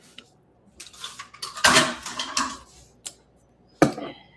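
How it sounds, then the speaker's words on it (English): A spoon stirs peach cobbler filling with vanilla in a bowl, giving irregular close clinks and scrapes against the dish, with a few sharper knocks and quiet gaps between them. "And do some more stirring."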